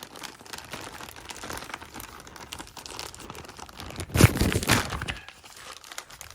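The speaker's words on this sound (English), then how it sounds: "I'm just gonna rip it open." Packaging being torn open around a hat, a short sharp rip and crinkle of plastic or paper midway, surrounded by softer rustling handling noise, close and moderately loud.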